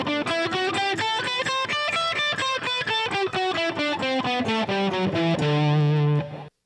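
A D Mixolydian mode scale runs note by note on a distorted electric guitar, with steady even picking and a final note ringing out at the end, close and loud with no voice.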